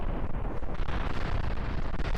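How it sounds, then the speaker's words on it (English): A rocket blows up in the Kerbal Space Program video game, a dense roaring rumble of explosion noise that fills the clip loudly and continuously without any voices. "Another one. Another explosion."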